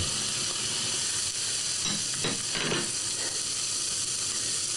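Steady sizzling of chicken frying in a hot pan, a continuous hiss with a few louder crackling bursts midway, close and fairly loud.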